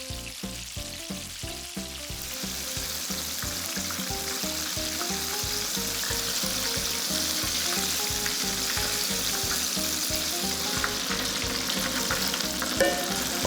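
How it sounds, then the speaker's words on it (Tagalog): Chicken pieces for crispy fried chicken deep-fry in hot oil, a steady, loud, continuous sizzle and crackle running unbroken throughout with no talking. "itutuloy lang natin yung pagprito dito pa sa mga natira"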